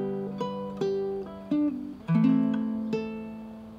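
A baritone ukulele plays a plucked chord melody of a TV theme's opening line, with a few single notes, chord strums and slides, each decaying cleanly, no talking.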